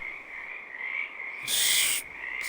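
Frogs croaking around a lily-pad pond in Farming Simulator 22, a steady high-pitched chirping chorus with a brief burst of brighter noise partway through.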